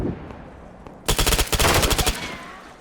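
A single close, loud burst of rapid automatic fire from an HK MP7 submachine gun in Arma 3, about a second of evenly spaced shots after a quiet lead-in, then fading to stillness.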